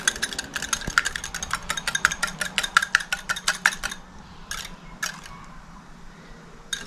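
Scrambling rehydrated freeze-dried eggs in a pan on the stove: a quick, steady run of utensil taps and scrapes against the pan, then a few sparser clicks toward the end.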